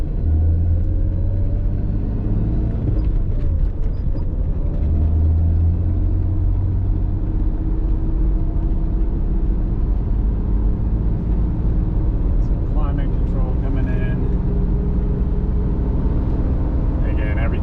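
Cabin rumble of a 1994 Jaguar XJS with a supercharged 4.0L straight six and factory 5-speed, a constant low engine drone while driving with someone talking over it.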